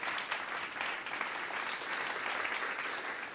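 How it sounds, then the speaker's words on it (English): Sustained audience applause at a HUD keynote speech, a dense, steady wash of many hands clapping throughout with no talking. "Give yourselves a round of applause."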